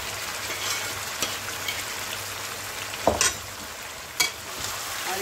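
Marinated chicken pieces and chicken liver fry in oil in a kadai, giving a steady close sizzle with a few sharp stirring clatters and splashes.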